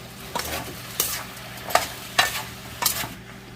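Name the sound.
sautéing chayote and vegetables for chop suey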